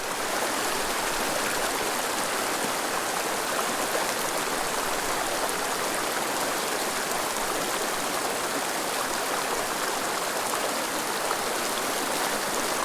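Steady, full rush of a mountain trout stream, close and constant with broad hissing water noise throughout and no voices.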